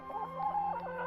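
A hen clucks in an animated Kazakh folk tale, a short run of close, melodic clucks with no talk over it.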